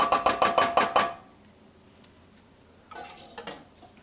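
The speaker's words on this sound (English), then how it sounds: "we are going to whisk in a whole cup of ketchup" A whisk clicks rapidly against a bowl about six times while ketchup is stirred into a chicken kabob marinade, then stops, followed by quiet and a few faint clinks.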